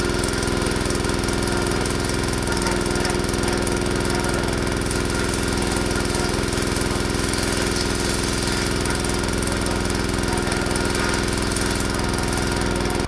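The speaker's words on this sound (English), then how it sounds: "And Brad starts up that header." A combine harvester header starting up and running steadily, a loud, continuous mechanical drone with engine rumble and vibration filling the whole stretch without pause.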